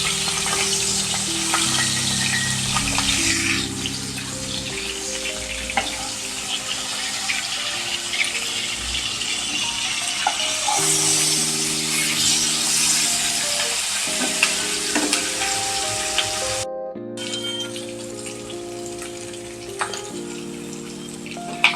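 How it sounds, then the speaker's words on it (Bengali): Turmeric- and salt-rubbed katla fish pieces fry in hot oil, two at a time, giving a steady, close sizzle with occasional stirring and water sounds, over soft background music. "নুন হলুদ মাখানো মাছটা আমি ভেজে নেব।"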